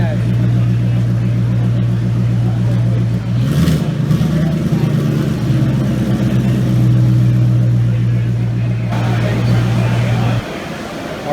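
A 2017 Mustang GT with a single-turbo setup and 6R80 transmission idles steadily and close by, a loud constant engine drone that holds for about ten seconds before dropping off near the end.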